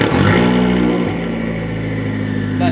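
Fiat Abarth engine starting for the first time and revving, a loud buzzy running note that dips and settles into a steady, strong drone close by.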